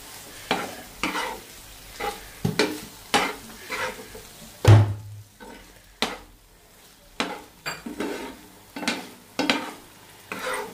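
Red chilli sauce gets stirred into paneer burger filling frying in a pan, with a spoon scraping in regular, fairly loud strokes over a low, steady sizzle.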